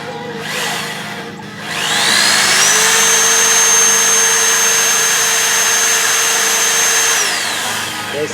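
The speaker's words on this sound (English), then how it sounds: "Working it out with the 1/8, just not pushing as hard." A power drill with a 1/8 inch bit bores holes in a lawn mower being fitted with castor wheels. After a short rustle it spins up into a loud, steady high whine that holds for several seconds, then winds down.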